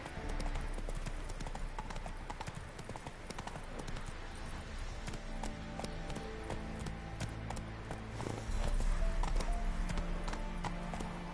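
Roach the horse trots in The Witcher 3, hooves clip-clopping in a steady rhythm over a continuous wash of game ambience and music, fairly close and even throughout.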